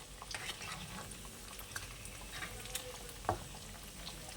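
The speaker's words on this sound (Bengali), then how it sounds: "এগুলো ভেজে নিই" Fish fry in a home kitchen pan, a steady low sizzle with scattered pops and light utensil clinks, one sharper clatter near the end, moderately close and fairly quiet.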